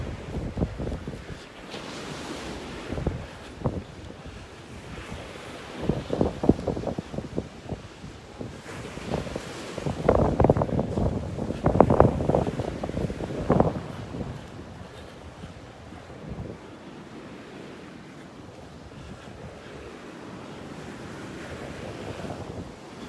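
Rough ocean surf breaking on a beach in North Naples, Florida, with rolling crashes that swell and fade under heavy wind buffeting the microphone, loud and close, no talk.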